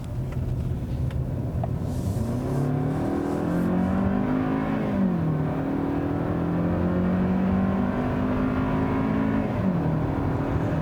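A 2018 Hyundai Sonata Limited accelerates hard, its engine droning and climbing in pitch through the gears, with a shift dip in the middle and another near the end, loud and steady with no talk.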